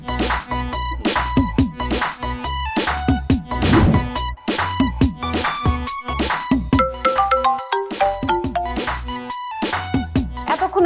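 A mobile phone rings with a melodic ringtone for an incoming call, loud and close, repeating its tune steadily with no voices.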